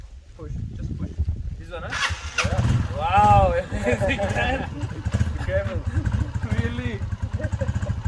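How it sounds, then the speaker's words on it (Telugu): A small 100cc Euro motorcycle engine cranks and catches, settling into a sputtering idle, while people talk nearby over the running motor in a Turkish village. "100cc బైక్ అనుకుంటా, యూరో 100cc బైక్. దీన్ని ట్రై చేద్దాం."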